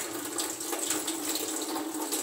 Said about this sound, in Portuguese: Torneira.